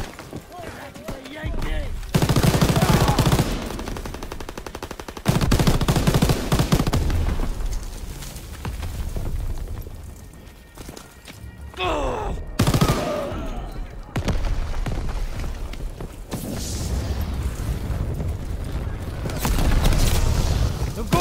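Heavy artillery and gunfire in Call of Duty WWII on D-Day: loud booming blasts and rattling bursts of rifle and machine-gun fire come in waves, with shouting voices mixed in.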